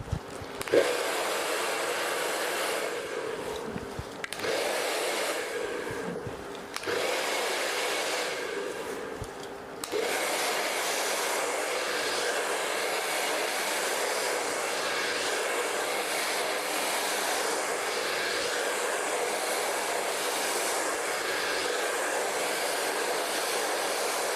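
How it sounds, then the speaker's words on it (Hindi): A hair dryer blows steadily on a section of long hair while it is styled, a loud continuous whoosh that dips and cuts briefly in the first ten seconds, then runs evenly without a break. "तो मैं हल्का हल्का ड्राई करूँगा। ये हमने यहाँ पे ड्रायर कर दिया है।"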